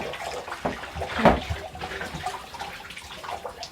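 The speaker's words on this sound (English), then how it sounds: "turn that back to the shower then" Shower water runs during a dog bath at home, a soft hissing spray with splashes, fairly close and moderately quiet.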